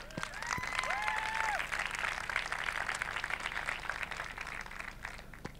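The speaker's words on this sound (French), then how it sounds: "je pense que ça, juste pour ça, on peut juste s'applaudir, quoi." A conference audience of several hundred at an e-reputation event in Mulhouse fills the room with sustained applause. A few high whistling tones rise over the crowd near the start.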